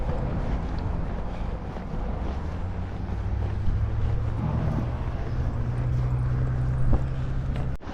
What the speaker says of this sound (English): we have a breeze coming in